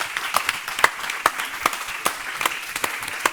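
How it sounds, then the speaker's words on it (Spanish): An audience at a design and retail panel discussion applauds after the session, with crisp, evenly spaced claps at moderate volume from a small group and no talking over it. "Un aplauso, Gracias, por favor."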